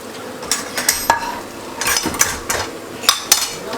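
Frozen vegetables shaken and stirred in a pan on a home stove, giving repeated bursts of rattling and scraping with a soft sizzle between, close and fairly loud, with no voices.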